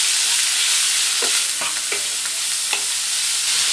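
Spices and chopped garlic with carrot frying in a pan, a steady broadband sizzle with a few soft scraping stirs, close and continuous, no voices.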